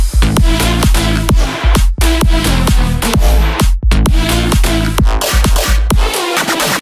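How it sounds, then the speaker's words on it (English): Bouncy electronic dance track with a punchy, steady kick-driven beat, deep bass and bright synths, loud and continuous with no talking. "I also made a really cool bouncy track for the people who sign up for the music pack"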